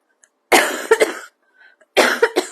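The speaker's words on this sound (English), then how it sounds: "Trying to avoid the coughing" Two separate bursts of harsh coughing, each a cluster of rough hacks, close and loud with a quiet pause between them.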